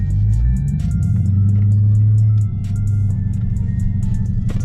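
A Dodge Charger Daytona in sport mode gives a loud, steady low rumble from close by, with a slight drop in level about halfway through and no talking.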